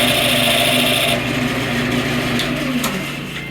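Wood lathe turning a tenon on a maple blank held friction-fit on a center pin, a steady close whirring hum with scraping cutter noise that eases and drops after about a second, no talk.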